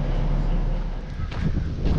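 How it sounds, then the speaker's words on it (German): Wind buffeting the microphone outdoors near a farm, a steady loud low rumble with gusty swells throughout. "Ist ein bisschen windig."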